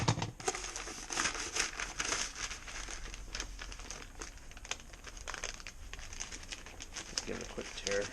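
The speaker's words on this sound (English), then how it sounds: "Let's give it a quick tear." Paper packaging from a Japanese shopping box crinkles and tears in quiet, irregular rustles and rips up close, continuing for several seconds with faint voices in the background.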